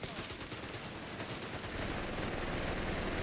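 Machine gun fire in a Company of Heroes 3 match, a German machine gun: dense, rapid bursts of gunfire over a constant battle rumble, with no pause in the din.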